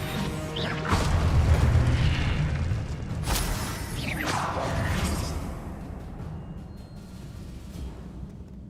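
A Confringo fire spell in Hogwarts Legacy bursts with two booming, whooshing blasts a couple of seconds apart, then rumbles and crackles as the debris settles.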